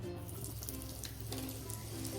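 Soft, steady sizzle of oil in a pan with asafoetida added, faint crackles, close by and continuous, with a low background hum and no talking.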